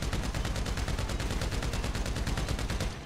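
Rapid gunshots at the Ammu-Nation shooting range in GTA V, a dense, loud, evenly paced string of shots that runs without pause before cutting off at the end.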